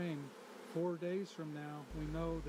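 Bees buzzing near a hive while a queen bee is handled, with a few whining buzzes rising and falling in pitch close by, fairly quiet, then a steady low hum toward the end.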